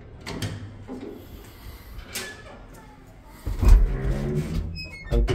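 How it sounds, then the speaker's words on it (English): An old apartment-building elevator door is unlatched by twisting its handle, giving a few close mechanical clicks and clunks followed by a heavier metallic rattle as the door opens, with someone talking throughout. "Now to open the door, we should twist this handle on the left side,"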